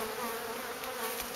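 Agitated honeybees buzz around a hive, making a close, steady, dense hum with no pauses.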